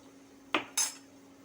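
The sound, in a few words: spoon stirring in a cooking pot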